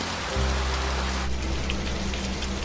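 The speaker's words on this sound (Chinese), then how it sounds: "雨越下越大，甚至湖面上也都升起了水雾。" Heavy rain pours onto a lake in a steady, dense hiss of drops striking the water, with a low droning hum joining in after a moment.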